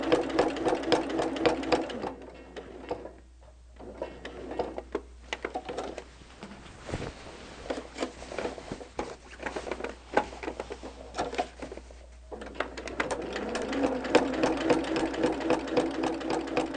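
A sewing machine machine-quilts a pieced quilt with a steady, fast mechanical whir and rapid needle chatter, running nearly continuously and close, pausing briefly a couple of times before speeding up again.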